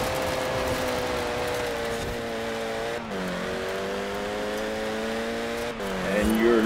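Car engine revving in Forza Horizon 4 during a handbrake turn, a steady droning note that dips and shifts pitch twice, with a brief tire scrub near the end; speech is faint underneath.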